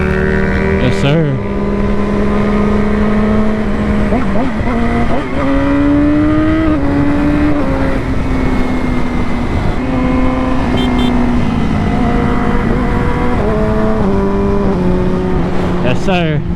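A Yamaha R6 motorcycle engine hums steadily up close, its pitch rising and falling through several gear shifts during wheelie practice, with a rider talking over it throughout.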